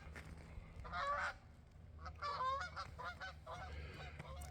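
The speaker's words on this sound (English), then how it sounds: "geese." Geese honk outdoors in a few scattered bursts of calls, faint and fairly distant over a low background rumble.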